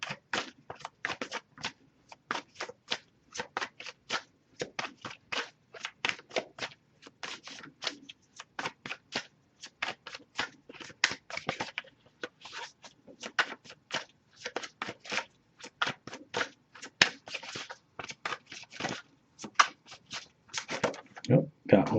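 Oracle cards are shuffled by hand for a long stretch, with rapid, uneven bursts of crisp riffling and slapping, quiet and close, and a soft voice sometimes speaking underneath.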